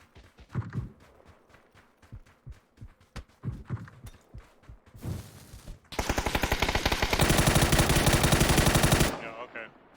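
Gunfire in the battle royale game PUBG: a string of spaced single shots followed by a loud, sustained automatic burst that cuts off abruptly, with some faint game noise between.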